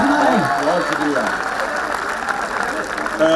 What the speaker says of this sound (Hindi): जोरदार हाथ खड़े करके तालियां बजाइए।